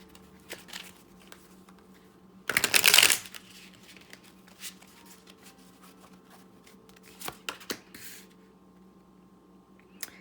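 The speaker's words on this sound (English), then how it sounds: "That was a terrible shuffle." A tarot deck being shuffled, one loud riffling burst of cards lasting about half a second, followed by quieter card taps and handling noises in a still room.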